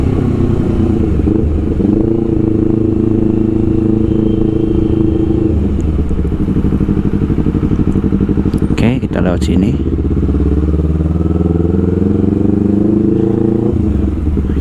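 Honda CBR250RR motorcycle engine droning steadily from the rider's position, with gear-change dips and a brief rev burst midway, loud and continuous throughout.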